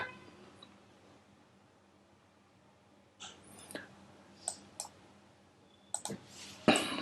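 Computer mouse clicking during Red Hat Linux display settings, a few sharp close clicks spaced irregularly after a quiet stretch, no talking.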